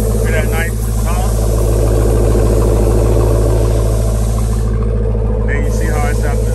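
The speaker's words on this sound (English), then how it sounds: "I had to start the truck up for y'all so that y'all can hear the exhaust" A 2018 Jeep Trackhawk idles with a deep, steady exhaust rumble close by, continuous throughout, with a person talking over it at times.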